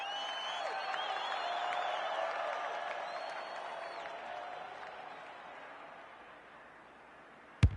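A stadium crowd cheers and applauds after a goal in the AFL 26 football game, a broad roar that swells and then slowly fades over several seconds, ending with a brief sharp thump.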